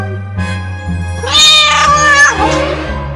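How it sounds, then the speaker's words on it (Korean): A large, fat cat lets out a drawn-out, rising and falling meow with a harsh, wailing edge, loud and close over a sustained musical backing. "어디선가 갑자기 무시무시하게 생긴 뚱뚱한 고양이가 들어왔어요"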